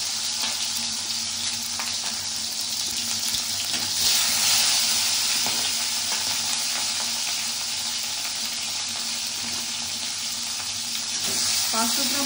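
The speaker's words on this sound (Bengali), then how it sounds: "মাছগুলো ভেজে নিতে হবে।" Folui fish fry in hot oil with a dense, loud, continuous sizzle and hiss, steady from start to finish with a few faint clinks.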